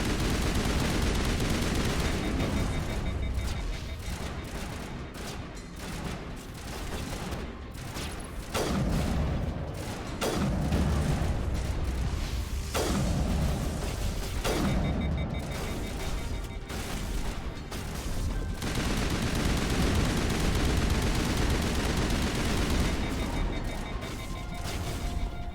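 Sustained gunfire and explosions in Mass Effect Legendary Edition combat, dense and loud throughout, with repeated heavy bursts and booming impacts layered over continuous battle noise.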